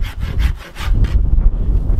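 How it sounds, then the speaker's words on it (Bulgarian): A hand file works along a wooden bow limb, shaping it in close, loud rasping strokes. Several quick rhythmic passes are followed by slower, rougher scraping. "Най-лесният начин това да се направи според мен е с пила"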